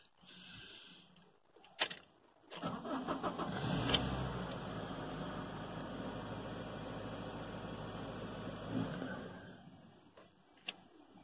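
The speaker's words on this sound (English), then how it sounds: "So, waiting for the car to stop." A Honda CR-V engine cranks and starts, runs steadily at idle for several seconds, then dies abruptly and falls silent, with a few faint clicks and knocks before and after.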